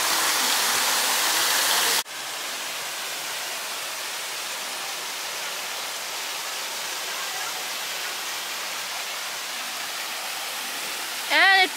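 Steady rushing water pours continuously, like a small waterfall, at a jungle-themed mini golf course, with a brief change in level near the start.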